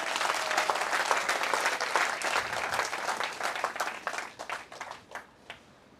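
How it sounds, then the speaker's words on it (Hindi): A seated audience at a talk applauds a speaker with steady, fairly quiet clapping from the room that gradually thins into sparse individual claps before dying away. "हमारे कदम सर के लिए जोरदार तालियां बजाएं।"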